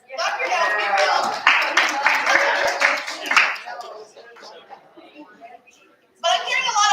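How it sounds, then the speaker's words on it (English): Audience clapping at a National Federation of the Blind of Idaho session, a burst of hand claps that fades to scattered sparse claps, followed by a voice resuming. "how many of you were absolutely ecstatic that yours was one of the three? Clap your hands, be real."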